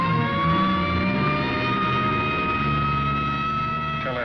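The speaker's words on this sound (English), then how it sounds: "here comes an ambulance out" A siren wails steadily with rising and falling tones as a vehicle engine rumbles close by, passing loud and continuous.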